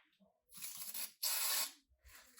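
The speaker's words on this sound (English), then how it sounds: "you wanna try to spray enough stuff in there" Penetrating lubricant sprays onto stubborn engine bolts on a 700hp Jaguar XFR in two long hissing bursts with a short pause between, followed by a shorter burst; there is no speech.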